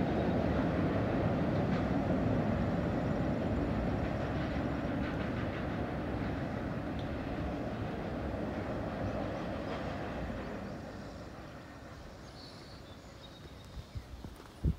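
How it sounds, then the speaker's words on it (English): A train rumbles steadily across a high railroad trestle bridge at High Bridge, with rolling, rattling wheel noise that gradually fades, ending with a few light clicks. "Finally got a train through here."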